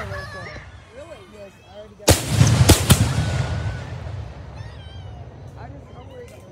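At a fireworks show in Robinson, Illinois, a loud boom bursts after a quiet stretch, followed by a second sharp crack and a long crackling, rumbling tail fading out, with people talking before and around it.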